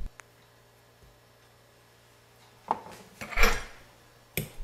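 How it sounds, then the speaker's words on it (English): A metal spoon scoops ripe avocado pulp onto a plate, giving a few soft scrapes and clinks that grow louder toward the end after a quiet start. "we're gonna take a spoon here and scoop out the pulp onto a plate"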